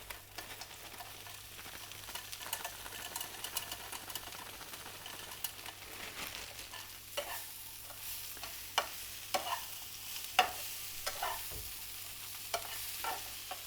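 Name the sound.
frozen peas added to a hot pan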